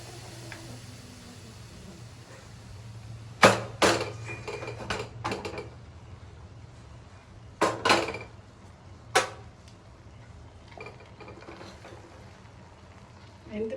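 Pressure cooker lid being opened after cooking red kavuni rice, a few sharp metallic clatters and clicks of the lid and handle over a low steady kitchen hum, with quiet stretches between the bursts.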